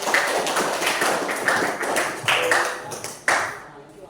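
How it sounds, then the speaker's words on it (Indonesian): Students in a classroom clap together, a loose burst of overlapping claps with a few louder accents, fading out near the end, set against a noisy room. "Oke benar ya, kasih tepuk tangan."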